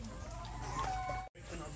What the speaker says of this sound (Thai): โอ้โหนี่มีไก่ด้วยเลี้ยงไก่